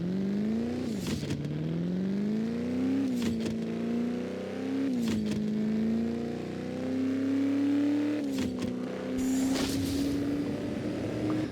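A race car engine in the Drag & Fast Racing video game revs up in repeated rising sweeps, each climb cut off by a brief click as a gear shifts, loud and up front, with no talking.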